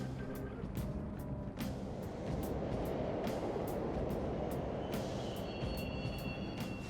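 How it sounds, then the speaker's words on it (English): Subway train running through a Mementos tunnel in the video game Persona 5 Royal, a loud, steady rumbling roar with rhythmic rail clacks and a faint high squeal toward the end. "The trains are totally running. Spooky train."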